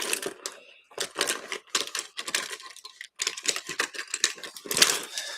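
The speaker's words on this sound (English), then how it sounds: "I have my pencil sharpener." A pencil sharpener grinds a pencil in repeated short bursts with brief pauses, a close, crisp scratching and whirring rhythm.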